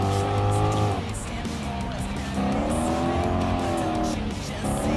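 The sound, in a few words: race cars engines and tires in Gran Turismo Sport video game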